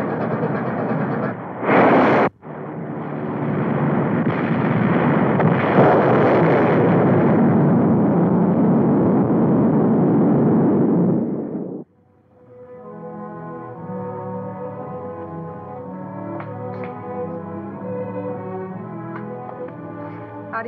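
A loud, sustained explosion roars from a 1952 war film just after a firing order, rumbling heavily for about nine seconds before cutting off abruptly, followed by a lower, ringing sustained tone.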